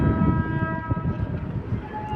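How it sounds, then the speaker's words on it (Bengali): A train rumbles past steadily near Humayun's Tomb in Delhi, a low continuous roar with drawn-out horn-like tones ringing over it throughout. "কাছেই রেল স্টেশন তাই ঘন ঘন ট্রেনের আওয়াজ আসছে"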